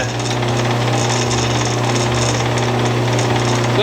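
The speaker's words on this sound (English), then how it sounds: "the Scotch-Brite pads rotate on the shaft. And even with that, just pressing lightly, it's working real well." Scotch-Brite pads spinning on a motor-driven arbor shaft, pressed lightly against work during restoration of a Disston #28 saw, a loud steady motor hum and abrasive whir throughout, with no talking.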